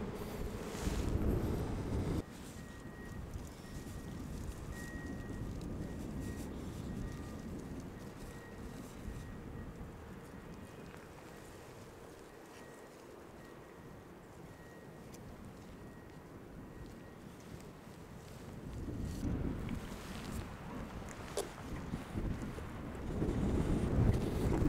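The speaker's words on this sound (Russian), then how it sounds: "сегодня штормовой ветер у нас, и, возможно, со звуком некоторые косяки" Stormy wind buffets an outdoor microphone at a construction site on a cape, with loud rumbling gusts at the start and end and a calmer, steady roar in between.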